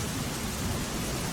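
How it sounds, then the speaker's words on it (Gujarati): Rain falling in Somnath, Gujarat, heard as a steady, dense hiss of close, even downpour with no voices. "સોમનાથમાં સતત ત્રીજા દિવસે વરસાદી માહોલ જામ્યો છે"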